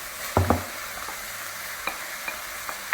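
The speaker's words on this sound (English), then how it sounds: "now I'm going to saute the potatoes for about 5 to 7 minutes." Diced potatoes sautéing with cooked ground beef in a pan: a steady sizzle with a couple of loud utensil knocks early on, then lighter scrapes and taps of stirring spread across the rest.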